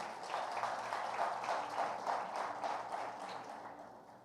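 Church congregation at a Sunday celebration service applauding, many hands clapping in a dense, sustained wash that swells slightly and then eases off toward the end, heard from within the room at a moderate distance.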